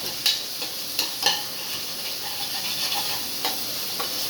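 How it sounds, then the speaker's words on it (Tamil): Ingredients sautéing in a pan for mushroom biryani, with coriander leaves just added: a steady oily sizzle with a few light spatula clicks and scrapes, close up and unbroken by talk. "இதையும் நல்லா போட்டு வதக்கணும்"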